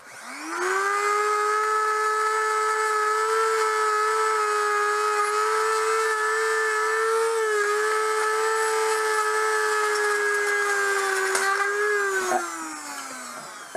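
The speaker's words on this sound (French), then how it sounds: "Dremel." A Dremel rotary tool works a Citroën 2CV headlight bracket, a steady high-pitched whine held for about twelve seconds, close and loud, dipping slightly in pitch near the end as it winds down, with no talk.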